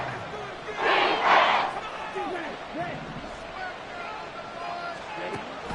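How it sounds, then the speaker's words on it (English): A football stadium crowd at a Dolphins game roars in a loud swell that peaks and then settles into a steady rumble of cheering, with a commentator talking over it. "This crowd turning up the decibel level."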